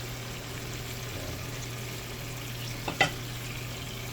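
Chicken frying in a pan for orange chicken, stirred with a steady low sizzle throughout and a brief louder scrape of the utensil near the end.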